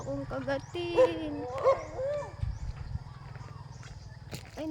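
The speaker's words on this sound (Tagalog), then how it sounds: "Ay, napakaraming aso na dito." Several dogs bark and yip nearby in short bursts, with whining between barks and a low rumbling background throughout.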